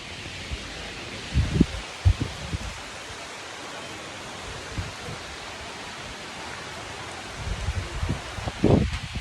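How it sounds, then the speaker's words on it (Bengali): Heavy rain falls outside in a steady, dense hiss, with occasional closer thumps and rustles from handling, no voices. "সেই রাম জোরে বৃষ্টি হচ্ছে বলে আমি যেতে পারছি না।"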